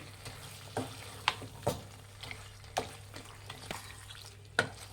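Chicken for Andhra-style chilli chicken being stirred in a frying pan: sharp, irregular scrapes and knocks of the spoon over a soft, steady sizzle, fairly quiet and without voices.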